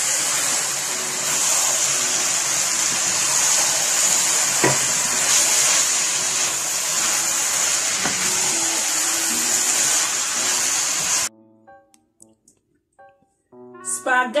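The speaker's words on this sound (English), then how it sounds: "You can go add the spaghetti. And then we'll mix it together." Spaghetti is stirred into bolognese sauce in a pan, a steady sizzle and wet scraping of mixing running for several seconds before dropping off. Light clinks follow, with a voice briefly speaking.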